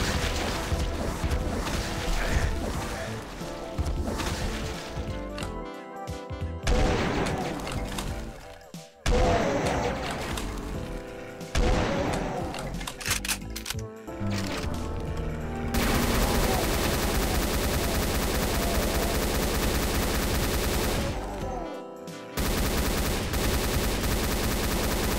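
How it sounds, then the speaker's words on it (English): Sustained rapid chaingun fire in Doom II, a loud continuous rattle of shots with brief pauses between bursts, layered with other game effects and music. "I tried to reload my chain gun"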